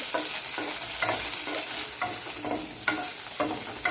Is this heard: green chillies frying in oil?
yes